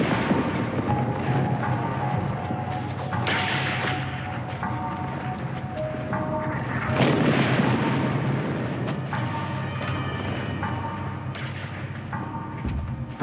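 Artillery fire in a wartime battle scene, with continuous rumbling booms and heavy blasts surging under a dense, noisy soundtrack that stays loud throughout.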